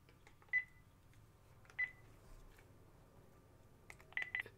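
Phone keypad tones dialing 911 in a video game, a few separated beeps spaced apart, then a quick burst of three or four tones at the end, over a faint hum, no talking.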